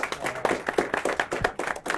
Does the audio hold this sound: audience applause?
yes